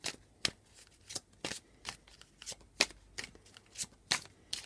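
A deck of tarot cards is cut and handled with a run of brisk riffling card flutters in a quick, fairly regular rhythm, close but soft, with no talking.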